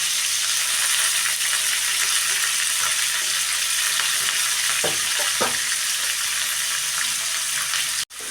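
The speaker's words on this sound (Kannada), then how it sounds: "ನೋಡಿ ಇವಾಗ ಇದನ್ನು ಎಣ್ಣೆಲಿ ಚೆನ್ನಾಗಿ ಫ್ರೈ ಮಾಡ್ಕೋಬೇಕು" Bitter gourd frying in oil with curry leaves, a constant close sizzle with a couple of brief stirring knocks midway, cut off abruptly just before the end.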